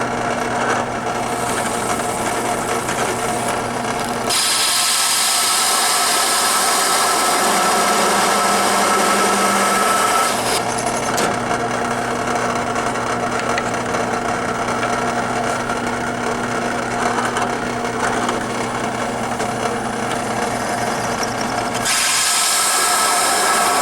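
A power drill bores into wood while a mini Asteroids Deluxe arcade cabinet is being built, whining loud and close in long continuous runs with brief pauses between holes.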